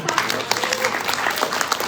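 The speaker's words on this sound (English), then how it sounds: "Let's just do a little clapping." An audience at an event breaks into steady applause, dense and lively, many hands clapping together for a couple of seconds with a voice speaking underneath.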